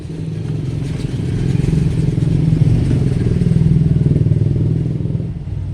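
A motorcycle engine idles loudly and steadily, its rapid throbbing pulse rising slightly midway with some light clattering.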